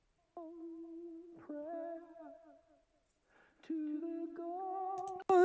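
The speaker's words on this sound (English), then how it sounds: "which I think is a really, really amazing tape delay echo" Sustained indie folk sung vocal notes through tape delay echo, with a wobbling, slightly unstable pitch, repeating in echoing phrases separated by short gaps, ending in a loud burst.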